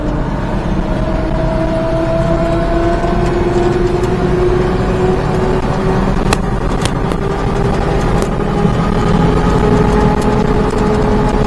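A Daihatsu Atrai micro van drives along, its steady engine hum and tire-on-road drone loud and continuous, engine tones shifting slightly in pitch, with a few brief clicks and no talking.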